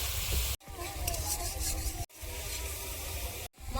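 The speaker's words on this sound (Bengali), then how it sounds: "ভালোভাবে ভেজে ভেজে মশলাটা আমি কষিয়ে নেব" Masala of red chilli powder and cumin powder frying in oil for a fish curry, a steady close sizzle with stirring scrapes, broken by a few brief cuts to silence.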